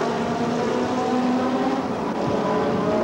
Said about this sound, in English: This is a comparatively small Chevy Impala, in fact, running only a 5-litre engine.